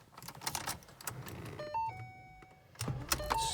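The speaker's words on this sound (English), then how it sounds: "Let me put the windows down real quick" Car power windows whir down inside the cabin, with quiet mechanical rustling, a few clicks, and a short run of electronic chime tones partway through.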